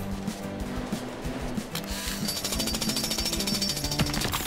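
Rubble's jackhammer drill in the Paw Patrol: Mighty Pups video game rattles steadily throughout, a loud, fast mechanical hammering that grows denser and brighter partway through, with no talk.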